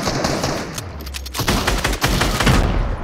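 Rapid bursts of automatic rifle gunfire in the Fortnite video game, loud and dense, with sustained rattling volleys that barely pause across the moment.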